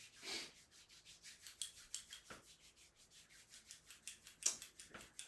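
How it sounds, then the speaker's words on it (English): Dry palms rub together front and back in a quiet room during a lung qigong exercise, a soft rhythmic swishing of repeated strokes, close and fairly faint, with no talking. "Give your hands another rub,"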